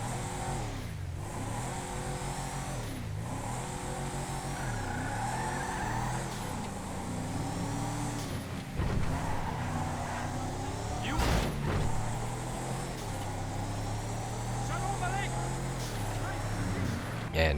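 Declasse Park Ranger engine in GTA Online, a low motor note that rises and falls as it revs and accelerates, with a voice talking over it.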